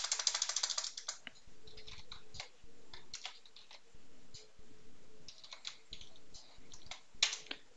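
Someone types code on a computer keyboard with quick, irregular bursts of close, light key clicks and short pauses, fairly quiet, with no speech.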